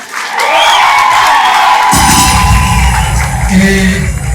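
Loud crowd applause and cheering at a film launch event, a sustained wash of clapping and whoops that swells about halfway through and carries on steadily to the end.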